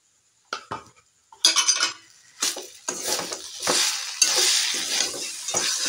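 A vegetable mixture of carrots for veg table chops being stirred in a pan with a spoon of ghee: close, loud scraping and clinking strokes that build into continuous sizzling stirring, with no voices.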